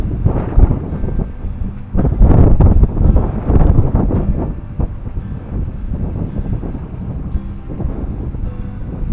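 Gusty wind on a riverbank while sea fishing on the River Humber buffets the microphone in uneven, rumbling bursts, strongest early on and easing toward the end.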